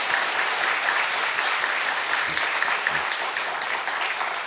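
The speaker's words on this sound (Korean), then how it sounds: "우리 두 분은 그분들에게까지 들릴 수 있도록 환영의 박수 보내겠습니다" Dense, steady applause from a church congregation welcoming newcomers at a worship service, a broad wash of many hands clapping continuously at even volume throughout.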